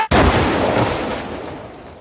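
A big explosion in the 1962 monster movie King Kong vs. Godzilla hits with a sudden loud blast, then a long, roaring rumble that slowly fades over two seconds.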